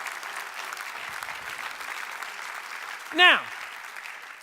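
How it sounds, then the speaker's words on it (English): Conference crowd at a NAMM media talk applauds, a steady patter of clapping through most of the stretch, ending with a brief spoken word from a man near the close. "Give her a round of applause."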